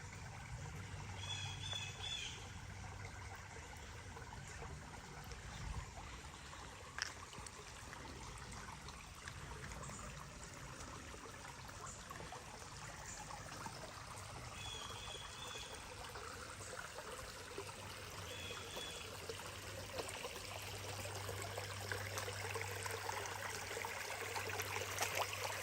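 Water flows over a giant ancient tree stem in a faint, steady trickle, with a few soft bird chirps now and then and no talking.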